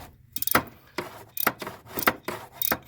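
A ratchet wrench turns a socket on a long, small extension to loosen a spark plug in a cramped engine bay, giving several short bursts of close clicking separated by pauses.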